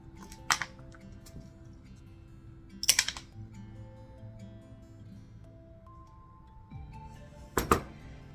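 Small mosaic tile pieces being cut and handled for a mosaic lollipop craft: a few sharp clicking snaps spaced several seconds apart, with light clinks of tile between them, fairly close and with no one talking.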